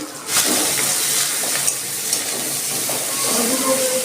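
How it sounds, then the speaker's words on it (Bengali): Shrimp frying in a pan with green chilies, salt and turmeric, giving a steady, close sizzling hiss that runs the full length of the clip with no talking. "চিংড়ি মাছটা ভাজা হয়ে গেছে"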